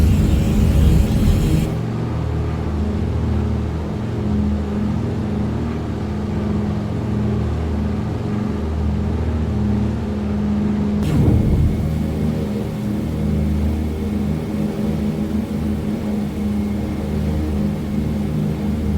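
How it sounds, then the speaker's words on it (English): A deep, steady Heinkel He 111 engine drone in a flight simulator rumbles continuously, with a brief shift in tone partway through, loud and unbroken with no voices. "it does kind of lend itself to a DC-3 sound"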